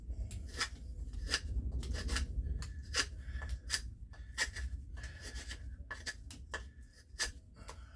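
A small Twisted Assisted Gambler knife carves wood, cutting away from the body. It gives about a dozen short, close scraping strokes in an uneven rhythm over a low steady background, with no talk.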